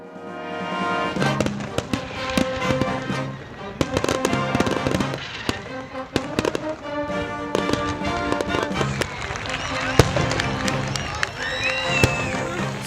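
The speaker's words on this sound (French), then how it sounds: "La soirée se termine par d'impressionnants feux d'artifice." Dense, continuous fireworks: rapid bangs and crackling bursts over a rumbling backdrop, with a crowd faintly audible in between.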